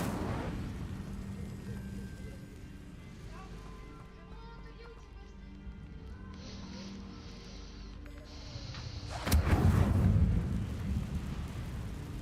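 Incendio fire spell cast in Hogwarts Legacy, a low rumbling fiery roar that swells into a loud burst near the end over a steady background wash.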